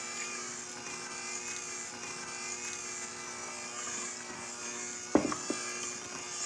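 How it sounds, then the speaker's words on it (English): An electric mixer on high speed whips chocolate cake batter with a steady, even whine and drone that runs throughout, with a brief clatter near the end. "I want to increase the speed to high and whip the batter for about 3 minutes."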